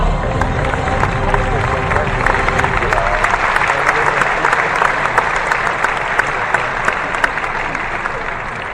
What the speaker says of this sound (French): avec vos encouragements sous forme d'applaudissements